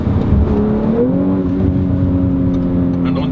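An Audi RS5 with quattro four-wheel drive accelerates on the road. Its engine note climbs steadily in pitch, heard from inside the car as a loud, continuous drone.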